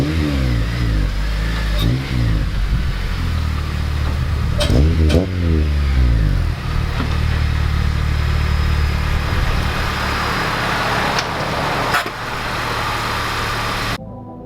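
A Mazda Miata with a notchy, worn shifter revs hard while driving, the engine sweeping up and down through several quick gear changes early on, then settling into a sustained drone with road noise; close and loud, no speech.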